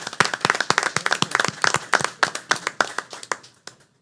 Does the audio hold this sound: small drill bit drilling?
no